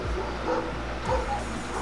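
A couple of short, deep barks from dogs nearby, two distinct bursts over a steady background hum.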